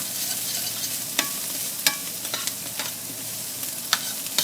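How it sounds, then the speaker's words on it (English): Diced onions cooking in rendered tasso fat in a pan for shrimp and grits, a soft continuous sizzle broken by a few sharp clicks of the pan or spoon. "we're going to add some diced onions, and we're going to cook these for just a second"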